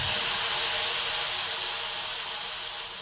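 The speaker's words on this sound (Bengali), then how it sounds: "তো এই মশলাটা এখন আমি উপর থেকে ঢেলে দিচ্ছি।" A spice mix is poured from above into hot cooking oil, producing a loud, steady broadband sizzling hiss that fades slightly toward the end.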